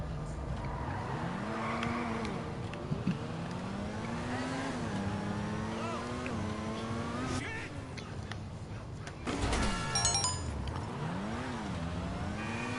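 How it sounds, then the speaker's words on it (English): A sports car engine in GTA V revs up and down through gears, its whining, electric-toned pitch sweeping repeatedly, with a brief tire squeal partway through. "It doesn't have a loud exhaust to it, so it has more of an electric tone"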